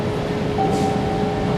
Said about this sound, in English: the next Orange Line train to Oak Grove is now arriving